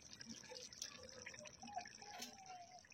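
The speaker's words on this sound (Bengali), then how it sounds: "ঝোল ফুটে গেছে" Curry gravy for an egg curry bubbling at a boil in a pot, with soft, irregular plops and drips, close by and fairly quiet, with no talking.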